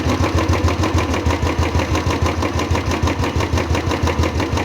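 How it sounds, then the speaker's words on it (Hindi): A steady Royal Enfield motorcycle engine idle with a fast, even ticking running through it, loud and close, with no voices. "ये जो आवाज़ है आप सुन पा रहे हो टिक टिक की"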